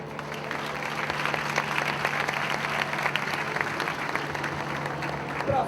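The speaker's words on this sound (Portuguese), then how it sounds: "Eu queria pedir uma salva de palmas para Luiz Carlos Zorro," Crowd applause at a Brazilian political rally, a steady wash of clapping at moderate loudness sustained throughout with no pause.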